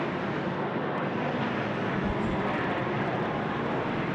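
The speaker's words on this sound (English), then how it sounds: "Closer afield, we've got a Jetstar aircraft now." Jetstar Airbus A320 jet at Sydney Airport, a steady broadband engine roar that fills the whole stretch at a moderate, constant level with no talking.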